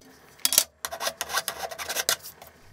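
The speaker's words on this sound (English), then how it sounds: "I'm now cutting the mounting panel out of 3mm aluminium." Sawing or filing through a 3mm aluminium mounting panel, a 450mm square plate with rounded corners, for a CNC control box enclosure: a series of close, harsh rasping strokes with brief pauses, no talk.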